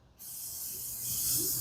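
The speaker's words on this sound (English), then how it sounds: "let's see if I get a nice sizzle when I throw this thing on" A burger patty hits the hot grate of a Weber charcoal kettle grill, a sudden loud sizzle bursting in after a brief quiet moment and holding as a steady bright hiss, close up with no talk.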